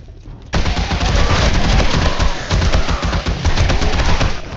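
Sustained automatic gunfire in the zombie survival game 7 Days to Die, bursting in abruptly after a quiet half second, then loud rapid rattling shots with brief dips, close and dense, with no talk.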